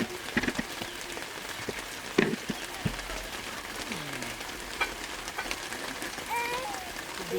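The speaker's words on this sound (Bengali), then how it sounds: "বৃষ্টি একটু বেশি আসছে জন্য অপেক্ষা করতেছি" Heavy rain pours steadily outdoors near a drainage ditch, a constant hiss with scattered louder drops and knocks, while faint voices and distant sounds come through underneath.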